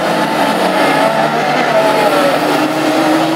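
Classic hot rod race cars lapping a track at Lochgelly during a heat, with a loud engine drone whose pitch slides up and down as the cars sweep past.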